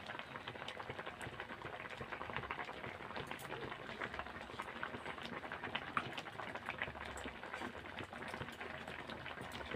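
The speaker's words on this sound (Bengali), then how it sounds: "বন্ধুরা, ডালটা ভালোভাবে ফুটে গেছে।" Dal (lentils) simmers in a pot, a faint, steady bubbling and popping that runs continuously without talk.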